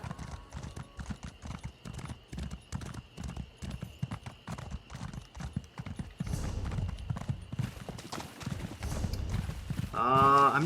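A horse in Elder Scrolls Online gallops steadily with rapid, even hoofbeats close up throughout, and a brief whinny-like sound rises near the end.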